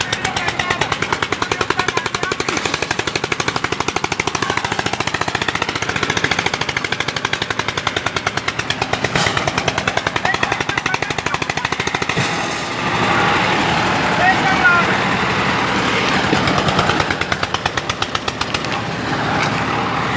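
A 4WD tractor engine running, a loud, continuous rapid knocking diesel rumble that stays close and steady throughout, dipping briefly in level midway before resuming.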